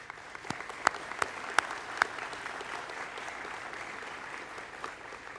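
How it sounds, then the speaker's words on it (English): Graduation ceremony audience at the Marine Institute applauding visiting guests from Jinan University, a steady wash of many hands clapping with a few sharper nearby claps standing out early on, no talk over it. "so I think you've probably come the furthest, so you deserve a round of applause"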